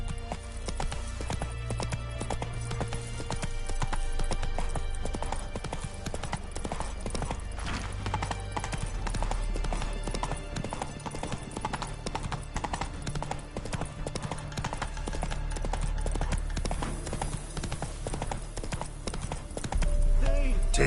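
Horse hooves clip-clop at a steady gallop in The Witcher 3, running continuously under a dense game music score with occasional whinnies.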